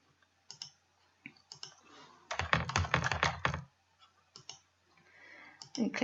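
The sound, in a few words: typing on a computer keyboard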